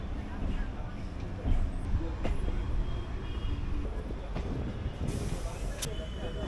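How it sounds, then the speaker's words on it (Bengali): A Sealdah–Sonarpur local train in Kolkata rumbles along with a steady low drone and occasional clacks and rattles, a hiss rising near the end. "তো আমাদের ট্রেনটা এখান থেকে ছাড়লো শিয়ালদা থেকে ছাড়লো"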